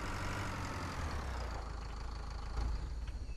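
Tractor engine idling in the farming video game Pure Farming 2018, a steady low rumble with a constant mid-range drone, close and even throughout.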